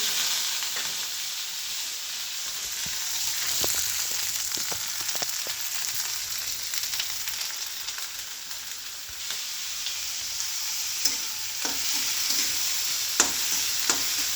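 A generous batch of onions with green chillies and coriander frying in a pan for a village-style bhakri bhuga, giving a continuous close sizzle with scattered crackles and occasional spoon stirs, no voices.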